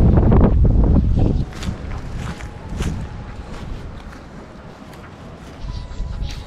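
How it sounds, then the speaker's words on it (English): Wind buffets the microphone on an open boat during fly fishing, a loud rumbling gust at first that settles into a steadier, breathy rush with faint water and deck noises underneath. "God dang, I love the wind."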